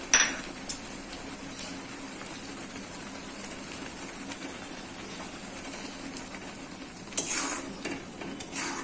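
Fried panch phoron and dry red chilli tempering stirred into a date and mango leather chutney in a kadai, a steady low scraping sizzle with a few light utensil knocks close by.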